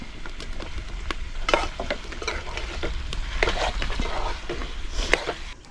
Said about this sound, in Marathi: चवीप्रमाणे पाक आपला तयार झालेला आहे त्याच्यामध्ये आपण आता कैरीचे तुकडे घालतोय